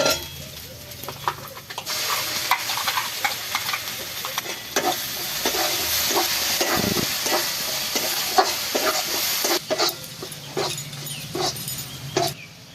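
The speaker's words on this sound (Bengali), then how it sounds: "এবার পেস্ট করা মটরশুঁটিটা দিয়ে দিচ্ছি" Green pea paste sizzling in a hot pan with ginger and cumin spice paste for sweet pea kochuri filling, a steady soft fry under repeated scraping stirs of the spoon.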